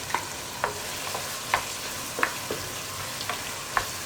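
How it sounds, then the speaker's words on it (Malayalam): Chicken and scrambled egg being stirred into frying rice and vegetables for chicken fried rice: regular spatula scrapes and clinks about every half second over a steady close sizzle. "ഇതെല്ലാം ചേർത്ത് മിക്സ് ചെയ്ത് സോസുകളൊക്കെ ചിക്കനിലേക്കും എഗ്ഗിലേക്കും ഒക്കെ ഒന്ന് മിക്സ് ആയി കഴിയുമ്പോൾ"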